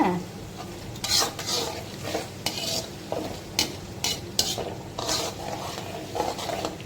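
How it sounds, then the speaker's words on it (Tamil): Ginger sizzling steadily in a hot pan, close and loud, broken by repeated scraping and tapping strokes of a spatula stirring it every second or so, without any voice. "இஞ்சி போட்டு இஞ்சி நல்லா ஃப்ரை ஆகுது"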